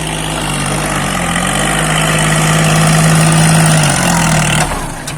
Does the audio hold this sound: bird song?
no